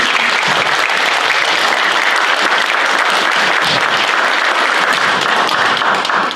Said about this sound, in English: And I think he deserves an applause.